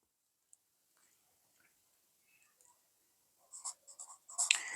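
Pen or pencil scratching on paper as someone writes out notes by hand for a Class 10 social studies answer, starting with faint isolated ticks and building into a brisk cluster of close, soft strokes at the end.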